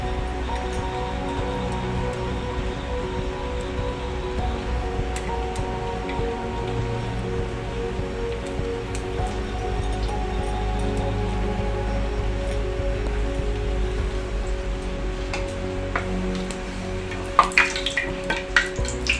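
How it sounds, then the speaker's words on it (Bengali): Chicken patties deep frying in hot oil, a steady dense sizzle and crackle running throughout at close range, with a few sharper pops near the end and no talking. "এটাকে ডিপ ফ্রাই করে ভেজে নিয়ে আমি আপনাদের কাছে ফিরে আসছি"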